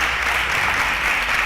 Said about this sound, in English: A round of applause for Marvelous.